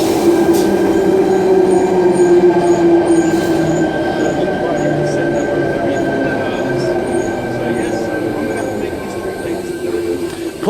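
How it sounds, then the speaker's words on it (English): A Tangaroa electric passenger train runs on the Epping to Chatswood Rail Link, heard from onboard as a loud, steady underground rumble with a sustained whine and faint rhythmic clicks, while a voice talks briefly. "This is the final train ever to traverse the Epping to Chatswood Rail Link."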